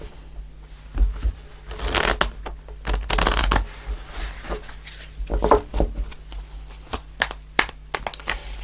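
A deck of tarot cards is shuffled in several riffling bursts, close by, with soft taps and shuffles between them and a faint steady hum behind.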